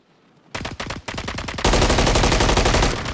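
Rapid automatic gunfire in Call of Duty, loud bursts of shots, then a sustained dense volley with no talking.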